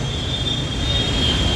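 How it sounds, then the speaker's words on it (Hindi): A metro train rumbles at a metro station, a loud steady roar with a thin sustained high whine from the wheels, continuous throughout. "अभी तो मैं मेट्रो स्टेशन पर ही हूँ।"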